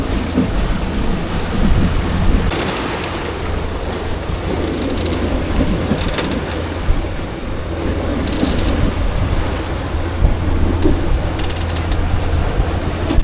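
A sailboat motors under engine power into a bay, its steady low engine hum mixed with water wash and wind buffeting, constant and close, with occasional mechanical clanks.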